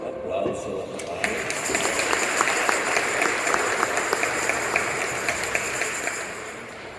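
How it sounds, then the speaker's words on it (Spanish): A Spanish-language Catholic congregation applauds the Gospel reading at Mass in a Brooklyn parish church, sustained, loud, even clapping filling the room throughout, with scattered voices underneath. "Aplauso a la palabra."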